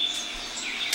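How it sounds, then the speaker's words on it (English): Birds sing in the morning background, a few thin high chirps and tweets sounding faint and somewhat distant over a quiet room. "can you hear the birds in the back?"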